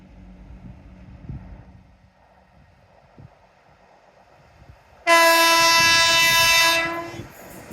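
Quiet outdoor ambience at Teignmouth, then a train horn blares loudly for about two seconds, a sustained harmonic chord close by, before cutting off.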